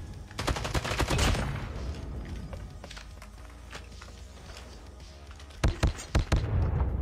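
Gunfire in COD: Mobile multiplayer, rapid bursts of automatic shots early, a lull with scattered single shots, then sharp close cracks near the end, no talk.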